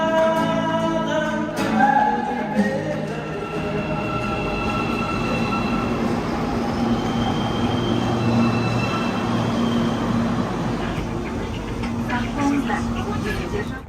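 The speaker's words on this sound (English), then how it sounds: "the city even has a subway, although it's just 11 stations in one line" A subway train in Bishkek, Kyrgyzstan rumbles and rolls along the tracks, with metallic squeals and a steady low drone throughout.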